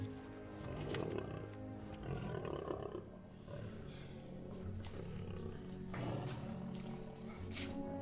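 Deep, sustained lion roars sound through a church youth oratorio staging of the story of Daniel in the lions' den. The roars are loud and rolling, swell and fade in waves over a continuous low rumble, with no speech.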